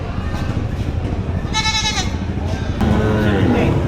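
A male goat bleats once in a wavering, nasal cry amid a noisy outdoor livestock market in Padre Garcia, Batangas, with people talking nearby.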